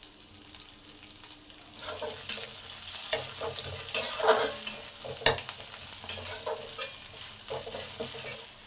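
Chopped chili stir-fried in hot oil over medium heat makes a continuous, close sizzle, with frequent scraping and clinking of a spatula against the pan.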